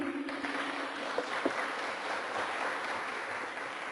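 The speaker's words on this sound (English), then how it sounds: "Please give them a round of applause." A conference audience applauds the speakers, a dense, even spread of clapping from a seated crowd that carries steadily for several seconds, a little distant and with a few sharper claps near the start.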